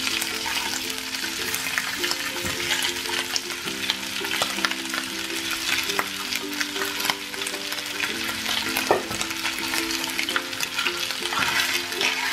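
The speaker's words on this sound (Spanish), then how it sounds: "Ya está caliente el aceite, ahora lo que voy a hacer es freír la carne" Meat frying in hot oil in a pan for Chinese beef and broccoli, a loud continuous close sizzle with occasional spatula scrapes and crackles, no talking.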